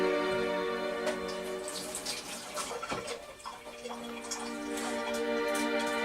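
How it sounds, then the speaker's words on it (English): Tap water running steadily into a kitchen sink as hands are rinsed while cooking, a continuous close splashing stream with no talking. "Now, I'm going to rinse my hand off."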